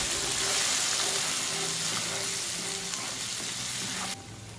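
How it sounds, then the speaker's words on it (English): Chili paste and curry leaves frying in a pan for a Malaysian chicken curry, a dense, loud sizzle with faint stirring scrapes that drops off sharply near the end, no voices present. "Next, add the chili paste and the curry leaves. Give the ingredients a good stir."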